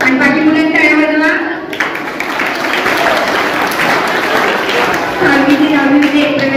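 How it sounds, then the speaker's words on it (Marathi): Children at a school welcome ceremony for new students break into a burst of hand clapping lasting a few seconds. It is loud and crowd-like, with a voice heard just before and after. "आणि बाकी मुलांना टाळ्या वाजवा"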